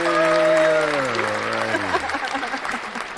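Applause rises from a crowd, starting under a falling drawn-out voice and then continuing as fairly loud, steady clapping to the end.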